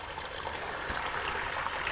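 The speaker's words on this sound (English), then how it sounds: "this is the pool draining under its own steam" Steady rushing of water with a soft trickling texture, continuous and fairly close, like pool water draining by gravity down through a pipe.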